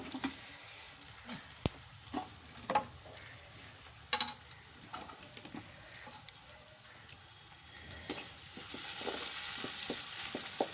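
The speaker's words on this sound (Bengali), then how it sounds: "এটা পেঁয়াজ ভাজছি আর কি।" Onions fry in a pan for a chicken curry, a quiet sizzle broken by irregular stirring clicks and scrapes, the frying hiss growing louder in the last few seconds.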